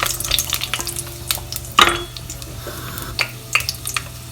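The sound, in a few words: whole red chilies and black peppercorns frying in oil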